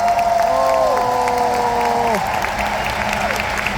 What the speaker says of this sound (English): Can we give our cast a round of applause?